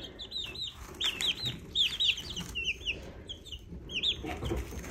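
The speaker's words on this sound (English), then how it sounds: "We have buff Orpingtons in here, lavenders, and copper Morans." Farm chickens, including Buff Orpingtons, lavenders and copper Marans, cluck and chirp steadily in a coop, a busy overlapping chorus of short calls nearby.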